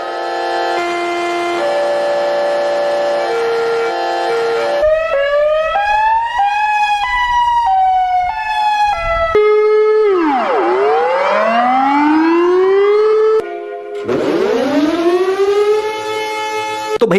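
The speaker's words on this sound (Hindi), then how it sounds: "आपने अलग अलग देशों के अलग अलग अलार्म सायरन सुने होंगे" Series of alarm sirens from different countries played back to back, steady wailing and rising-falling tones with no talk, loud and continuous throughout, each siren switching abruptly to the next.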